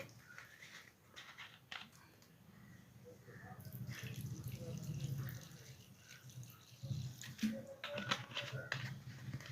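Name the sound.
petrol being poured into a Royal Enfield fuel tank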